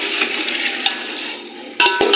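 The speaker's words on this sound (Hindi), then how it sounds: "तो प्याज़ों के अंदर मैंने एक साथ डाल दिया है चिकन, और इनको हम अच्छे से कर लेंगे फ्राई" Chicken frying with onions in a hot pan over a high flame, a steady close sizzle with a few clinks and scraping stirs near the end, no talk.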